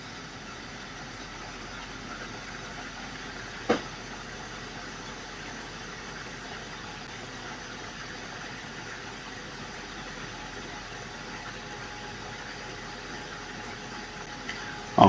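A spaceship engine in the video game Star Citizen runs as a steady, even drone for the whole stretch, with a brief click early on and another near the end.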